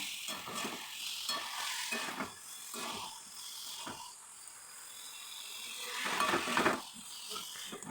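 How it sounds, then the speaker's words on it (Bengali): A spice mixture with coriander powder sizzles in a hot pan while it is stirred and scraped in repeated strokes, the frying swelling louder toward the end. "ভালো করে এইভাবে মিশিয়ে গেলে নাড়তেই থাকবো"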